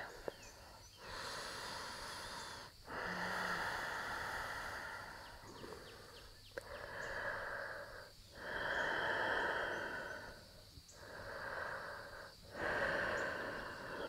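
Deep breaths taken while hanging in a yoga forward fold, several long hissing inhales and exhales in a steady rhythm separated by short pauses, close and moderately loud with no talking.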